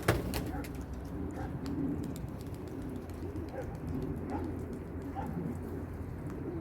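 Pigeons coo in low, soft, repeated calls at dusk on a cold evening after being fed, spread over a steady background hum with faint scattered noises.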